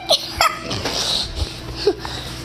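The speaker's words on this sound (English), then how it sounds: "And now let's say hi to my final dog, Nike Pooh." A pet dog lets out a few short yips and whimpers in greeting, close by and moderately loud, scattered over a couple of seconds with some household noise around them.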